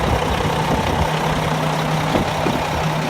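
A 2001 Mack semi truck idles nearby, a steady low diesel rumble with a constant hum and faint clatter and no change in pitch over the short stretch.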